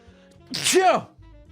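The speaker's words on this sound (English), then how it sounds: "Hold on, I have to sneeze." One loud sneeze bursts out close to the mic, a short intake followed by a sharp, voiced explosive release, with quiet before and after.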